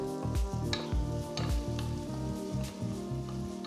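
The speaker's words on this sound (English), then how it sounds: "Saute for a few minutes." Garlic, ginger, roughly chopped green chillies and onion sautéing in a pan for winter vegetable soup, a steady close sizzle broken by repeated soft stirring scrapes and knocks, with no voices.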